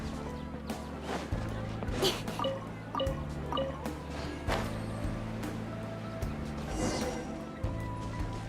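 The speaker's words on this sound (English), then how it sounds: "time to water the flowers" Splashy water drips and pours repeat in short bursts while flowers are watered in Genshin Impact, each splash fairly close, over a steady tonal game-music bed.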